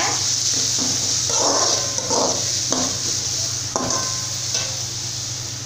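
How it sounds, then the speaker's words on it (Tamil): Soft sizzle of radish in hot oil, with intermittent scraping and stirring strokes of a spoon in a pan. "முள்ளங்கி சேர்த்துட்டு எண்ணெயோட கொஞ்சம் மிக்ஸ் பண்ணிக்கோங்க"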